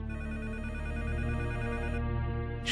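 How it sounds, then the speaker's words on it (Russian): A telephone rings unanswered, a continuous loud electronic ring with a buzzy, tonal quality, steady for nearly three seconds with no voices. "На звонок не ответили."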